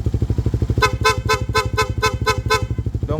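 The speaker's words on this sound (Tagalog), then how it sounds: "So sa busina, PIAA po, dual horn setup." A loud, motor-like buzzing drone runs throughout, then a PIAA dual horn on a Suzuki GSX-S150 motorcycle honks in eight rapid, evenly spaced blasts close up.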